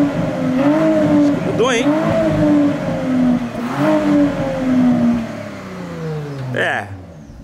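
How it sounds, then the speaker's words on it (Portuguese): A Porsche Panamera with a modified exhaust revs loud and close in repeated swells and drops, switched into Sport mode, while someone speaks briefly between the revs. "Dá outra acelerada aí, vamos ver."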